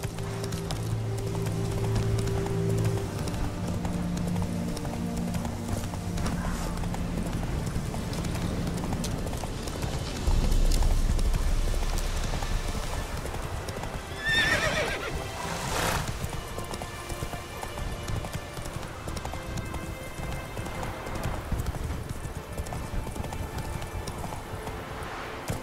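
Horse hooves clip-clop at a gallop in the Witcher 3 video game, a steady drumming rhythm running most of the time over game music and ambience, with a brief whinny partway through.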